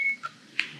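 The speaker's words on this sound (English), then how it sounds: "Yep, got an alarm." An infusion pump analyzer sounds its alarm with a short electronic beep, a brief high tone followed by a second, louder beep half a second later, faint and close in a quiet room.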